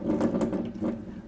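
Water draining out of household supply pipes from an opened tap, an uneven gushing and splashing flow with a few surges, fairly close and with no talk.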